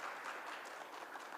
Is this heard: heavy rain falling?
no